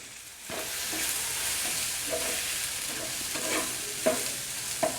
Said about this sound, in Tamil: இப்போ எல்லாம் சேர்த்துக்குங்க. நல்லா வதக்குங்க.